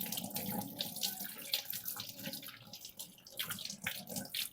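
Tap water runs steadily into a sink while a lemon is rinsed under it, with wet splashing and small handling noises, close and fairly quiet.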